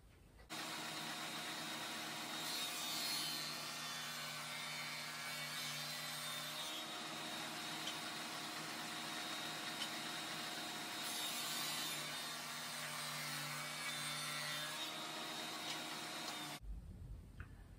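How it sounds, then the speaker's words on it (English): A table saw fitted with a dado blade cuts quarter-inch-wide, 3/8-inch-deep dados into wooden front and back pieces for a beehive slatted rack, a steady loud whining drone running nearly the whole time before stopping abruptly. "Now it's time to cut the dados in the front and the back."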